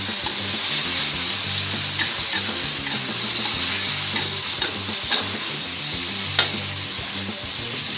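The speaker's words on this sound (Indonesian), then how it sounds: "minyak udah panas, kita masukkan bumbunya." A close, loud, continuous sizzle comes from a spice paste for red fish seasoning stir-frying in hot oil, with occasional scrapes and taps of a spatula and no talking.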